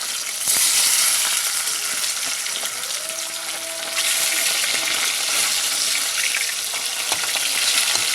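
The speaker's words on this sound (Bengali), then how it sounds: "মাছের এক পিঠ ভাজা হয়ে গেছে, আমি মাছগুলো উল্টিয়ে দেবো।" Flipped rohu fish pieces fry in hot oil in a wok, a continuous bright sizzle with occasional spits and stirring clinks, steady and close, with no voices.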